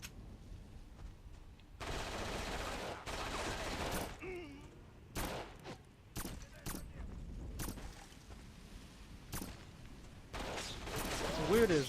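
Pistol and assault rifle fire in a video game, with long sustained bursts and repeated single sharp shots spread across the clip, loud and close, with talking in between.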